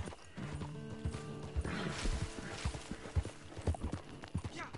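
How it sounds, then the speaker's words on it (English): Horse hooves clip-clop in the video game Red Dead Online, a quiet irregular run of hoofbeats with faint background game sounds and no talking. "This horse is so slow."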